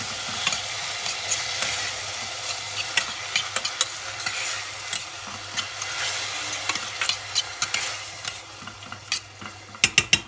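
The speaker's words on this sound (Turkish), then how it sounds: "Yine güzelce kavuruyorum." Food sizzling in a pan while a utensil stirs and scrapes, cooking diced ingredients for Turkish dried bean stew, with irregular clicks and knocks against the pan, getting sharper near the end.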